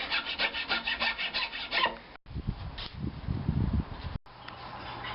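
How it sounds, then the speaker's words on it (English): Rasping file strokes on wood, a rapid series of short rubbing scrapes, then coarser, lower grinding passes after a brief break, close and fairly loud with no talking. "the filing noises of a man who almost got it completely right"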